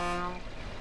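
A truck horn in the off-road driving game MudRunner blares loud and steady for a moment, its harmonic tone fading into rumbling engine noise as the truck idles.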